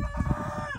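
A farmyard rooster crows once, close and clear, a short sustained harmonic call standing alone.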